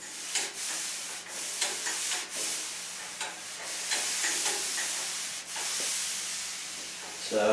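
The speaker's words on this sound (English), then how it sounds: "so I'm going to sand this off today" Steady sanding of Bondo Glass filler on a Firebird fender, a close, continuous abrasive rasp broken by short pauses and stroke changes.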